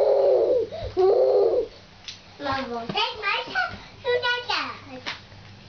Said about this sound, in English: He's so interested in the birds